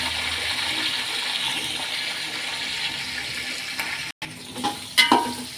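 Onions fry in a pan with green chillies and curry leaves for avarekalu upma, giving a steady, soft sizzle close by, followed near the end by a few clattering stirs.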